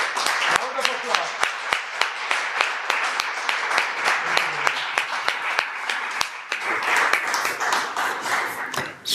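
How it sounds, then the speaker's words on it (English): A crowd at a holistic yoga gathering gives a round of applause. Loud, sharp individual claps stand out over a dense wash of clapping, and voices are heard beneath it. "Round of applause."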